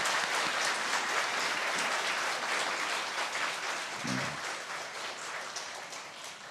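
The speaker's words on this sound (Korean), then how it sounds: "박수 한번 쳐줘요" A church congregation applauds in a dense, sustained wash of many hands, steady and even for several seconds with only faint murmurs beneath.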